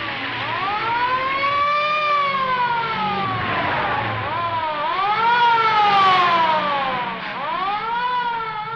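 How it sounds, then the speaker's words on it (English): A police car siren wails in a continuous rising and falling cycle, loud and near, sweeping up and down several times over an engine rumble. "the police car hadn't come along chasing those speeders"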